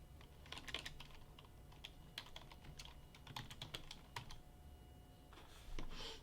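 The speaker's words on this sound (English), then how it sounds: "I'm just going to go into Google and I'm going to type in summer clip art." Fingers type a search on a computer keyboard in bursts of quick, light clicking keystrokes with short pauses, close and fairly quiet, with no one talking.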